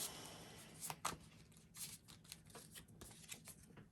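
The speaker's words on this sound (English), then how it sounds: "I'll shuffle and then I'll draw cards until I get a room" A deck of cards being shuffled by hand for a tabletop dungeon game, a quiet, close series of crisp riffling bursts and flicks with no talking.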